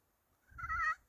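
A single soft, drawn-out note about half a second long comes from an HS Strut Cookie Cutter turkey pot call, close and quiet with no talking.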